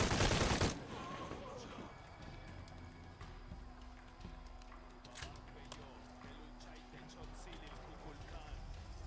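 Dense gunfire erupts in a loud burst at the start of a Shadow of the Tomb Raider battle, then continues as scattered shots and a low rumble under game noise.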